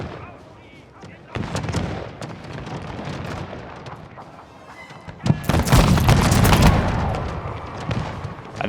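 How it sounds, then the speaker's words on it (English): Artillery fire in the Pike & Shot Total War video game rolls across an early-modern battlefield as dense booming volleys and crackling musket fire build to a loud, sustained barrage, while someone talks over it. "some of the musketeers starting to rout and actually getting blasted by their own artillery"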